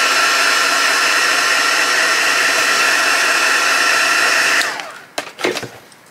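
A small handheld dryer blows over a collage journal page made from book pages and rice paper, a steady whirring hiss for about four and a half seconds that then spins down, followed by light handling knocks.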